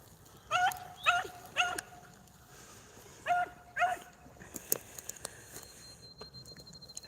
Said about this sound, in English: He hears them barking, he'll come on.